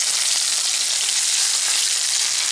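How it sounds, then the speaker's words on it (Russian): Chopped onion sizzles steadily in hot oil in a pan while a Russian-style eggplant, pepper, cucumber and tomato salad is prepared, a dense continuous frying hiss throughout with no talking. "Лук я буду обжаривать до золотистого цвета."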